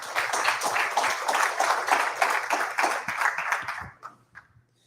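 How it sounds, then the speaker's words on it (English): An audience at a real estate investors' social applauds a guest speaker with a burst of clapping that holds steady for about four seconds, then fades quickly into quiet. "let's give him a round of applause"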